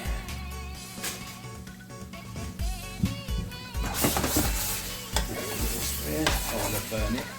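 Chicken tikka jalfrezi sizzling in a pan while being stirred, a steady frying hiss with scraping and clinking of a utensil, heard close under a layer of background music.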